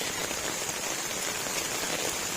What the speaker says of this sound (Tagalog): Bumanat na ang ulan.